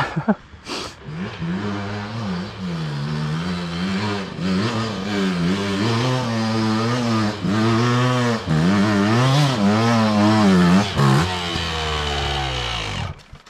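An enduro dirt bike engine revs hard climbing a steep hill in the woods, wavering up and down in pitch for several seconds, loud and close, straining continuously before cutting off.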